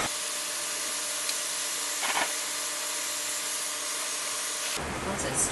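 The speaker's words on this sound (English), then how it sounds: "Can assist it with heat guns." A heat gun blows steadily on the texture coating of an upcycled standard door: a constant, close airy roar with faint knocks and a shift in tone near the end.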